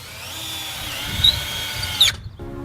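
A power drill drives trim screws into a cedar garden bed with metal sides, whirring steadily up close for about two seconds before stopping abruptly, with a few faint knocks after.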